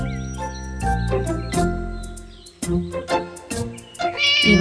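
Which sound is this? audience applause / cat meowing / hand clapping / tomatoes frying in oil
cat meowing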